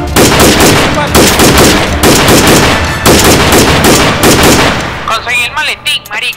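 Gunfire in the military shooter game Arma 3, loud rapid bursts of automatic fire with repeated shots in close succession, tapering into scattered sharper pops near the end, with voices occasionally heard beneath.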